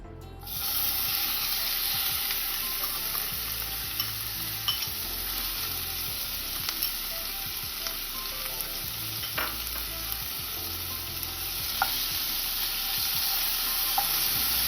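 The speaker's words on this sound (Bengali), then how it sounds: "একদম হালকা মিডিয়াম ফ্লেমে চিকেনটাকে ভেজে নেব।" Chicken pieces fry in oil in a pan over medium flame, a steady close sizzle with occasional crackles and light scraping, continuous and without talk.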